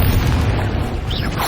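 A Confringo blasting spell explodes in Hogwarts Legacy, a loud, sustained low rumbling boom that fills the whole moment, with a brief hiss and crackle near its end.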